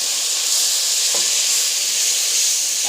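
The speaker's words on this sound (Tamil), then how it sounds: "வெங்காயம் தக்காளி வதங்கிறதுக்கு உப்பு போட்டு வதக்கிக்கலாம்." Onion and tomato sautéing with salt in a pan make a loud, even, close-up sizzle that holds throughout, with a faint scrape of stirring now and then.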